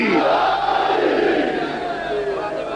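A large crowd at a Shia majlis roars the chant "Naara-e-Haidari" in unison, loud and close, voices rising and falling together in a sustained shouted slogan.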